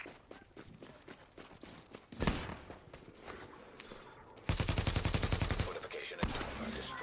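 Video game battle over a fortification, with bursts of gunfire: scattered sharp shots at first, then a loud sustained rapid volley. Game announcer voices come and go underneath.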